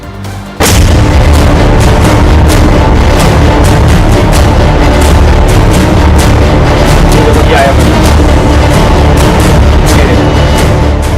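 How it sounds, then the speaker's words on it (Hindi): A sudden loud blast outside a pub in Chandigarh at night, caught on CCTV, followed by sustained heavy rumbling and a run of sharp cracking bursts. "बादशाह के पब पर धमाका क्यों किया गया, देखिए जरा।"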